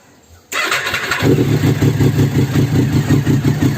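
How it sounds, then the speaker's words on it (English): A Triumph Daytona 675 motorcycle cranks briefly after a quiet moment, fires loudly up close, and settles into a steady, throbbing idle that pulses evenly. "We are getting ignition when we start up."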